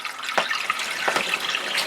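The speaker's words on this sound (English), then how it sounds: "Now, just have to wait until that water drains out" Water draining out of a boat's tank during winterizing before haul-out, a steady trickling, gurgling flow with a few louder splashy surges, close by and alone.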